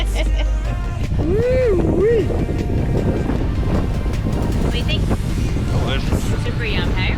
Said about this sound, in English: So it's gotten a little bit gusty.